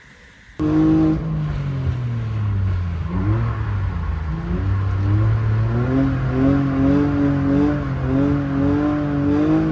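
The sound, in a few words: drift car doing a lap with a passenger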